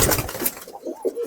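A pure Murshidabadi pigeon with a wheat-coloured beak coos nearby, a short burst of soft throaty notes rising and falling over about a second.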